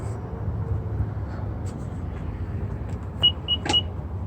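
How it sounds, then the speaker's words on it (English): Three short electronic beeps from a Nissan power liftgate closing sound close by over a steady low hum, spaced a fraction of a second apart. "And they both make a beeping sound."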